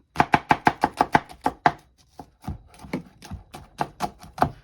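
A knife chops a shallot on a cutting board in quick, sharp, close strokes: a fast run of evenly spaced hits, a brief pause, then looser, irregular chopping, with no talk.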